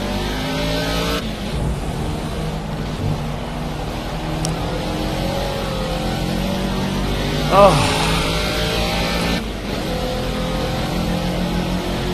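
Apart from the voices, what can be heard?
Caterham race car engine in racing video game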